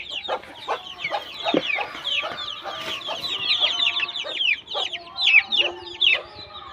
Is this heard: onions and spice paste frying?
no